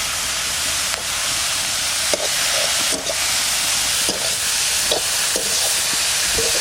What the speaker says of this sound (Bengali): শাক ভাজা হয়ে গেছে